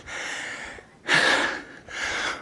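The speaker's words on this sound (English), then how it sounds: "Heavy breathing, because it was all upstairs." Heavy, audible breathing after climbing stairs comes in three close gasping breaths, loud and near, with no talk.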